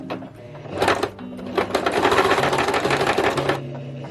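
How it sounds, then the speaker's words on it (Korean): Home sewing machine stitching with the presser foot raised so the thread tangles underneath, giving short rattling bursts that then settle into a steady close clatter before stopping, alone without speech. "노루발 올리고 한번 재봉을 해볼까요?"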